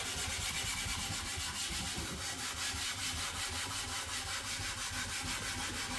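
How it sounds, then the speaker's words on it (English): A sponge scrubs hard glued residue off a glossy kitchen surface, giving a continuous rough rubbing and rasping sound with a quick back-and-forth rhythm, close and steady throughout. "You just literally have to scrub this off."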